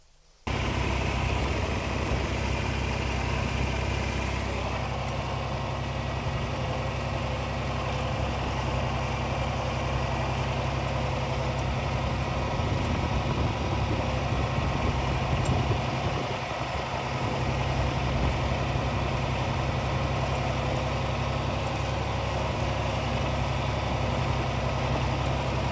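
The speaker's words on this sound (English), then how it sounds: "For now, let's just keep running the tractor and plowing." A tractor engine drones steadily while plowing a field for a sweet corn patch: a loud, continuous low rumble that starts abruptly and runs for about twenty-five seconds with slight dips and swells, no voices.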